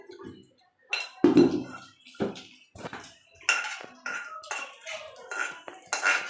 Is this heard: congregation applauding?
no